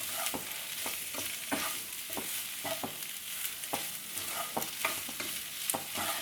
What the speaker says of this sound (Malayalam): നന്നായിട്ടൊന്ന് മിക്സ് ചെയ്ത് കൊടുത്ത് ഇത് നമുക്ക് ഡ്രൈ ആക്കി എടുക്കാം